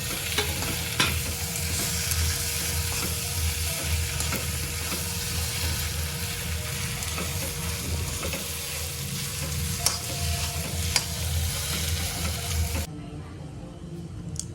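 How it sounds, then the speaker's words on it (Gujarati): Noodles sizzle and crackle steadily in ghee in a hot pan, stirred with occasional clinks, until the frying noise drops off near the end. "દીદી નુડલ્સ વઘારે છે ઘી દીધીને વઘારવાના છે નૂડલ્સ"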